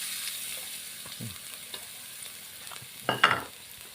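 Garlic fries in oil in a pan before pork goes in, giving a soft, faint sizzle with a quiet stir and a short louder scrape and clatter of the utensil near the end.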